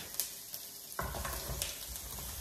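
Ginger sizzles and crackles steadily in a hot pan, with a louder burst as eggplant drops in partway through, and a few clinks of stirring.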